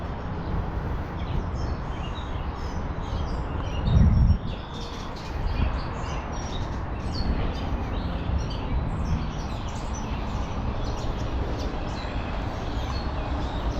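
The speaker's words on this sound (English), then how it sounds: "listen to all the birds here for a sec." Many birds chirp and twitter outdoors, scattered calls near and far over a soft wind-like hush, with a brief low thump partway through.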